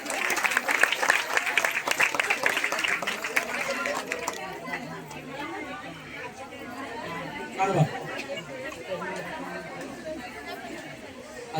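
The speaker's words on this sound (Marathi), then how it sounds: "शोभा कांबळे त्यांच्यासाठी जोरदार टाळ्या" An audience at a lucky draw for a Paithani saree claps loudly for a winner, a dense burst of applause that fades after a few seconds into crowd chatter and voices.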